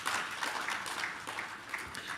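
Faint, distant applause from a business breakfast audience welcoming a panelist to the stage, a steady patter of many hands with no voices.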